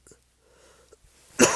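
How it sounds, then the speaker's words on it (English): A person gives a single sharp, loud cough right at the end, after near silence broken only by faint breaths and small throat sounds. "still coughing."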